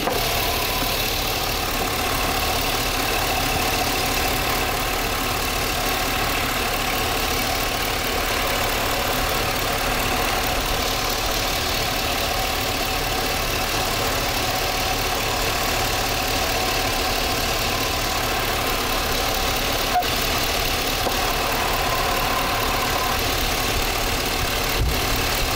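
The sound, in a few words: car engine idling with intake manifold gasket vacuum leak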